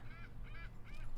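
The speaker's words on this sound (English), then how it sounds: "Seagulls are mad about something." Three harsh, squawking seagull calls in quick succession, fairly close, over a low rumble of wind or surf at a flooded riverside park in Winona.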